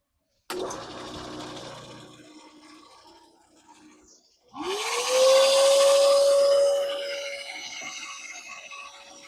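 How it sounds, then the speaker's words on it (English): A drum sander runs walnut and maple end-grain pieces, starting with a loud motor whine that rises to a steady high hum and continues under the grinding rasp of wood being sanded. "I'm going to run all of the pieces through the drum sander just to get them all exactly even"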